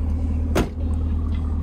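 A Chevrolet Camaro SS exhaust rumbles loud and close in a steady low drone, with one brief sharp bark partway through.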